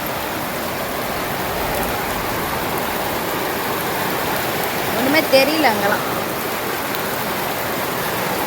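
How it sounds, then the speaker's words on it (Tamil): Steady heavy rain with water rushing down like a river fills the scene throughout, while a person speaks briefly in Tamil over the continuous wash of noise. "தண்ணி ஆறு மாதிரி ஓடுது"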